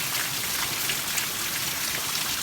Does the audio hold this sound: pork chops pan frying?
no